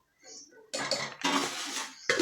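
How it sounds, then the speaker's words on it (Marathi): A spoon scrapes and clinks against a pan as two spoonfuls of peanuts go into rice being sautéed for a fasting recipe, in three loud close bursts of metallic clatter after a quiet start. "त्यात आपण 2 चमचे शेंगदाणे ॲड करू."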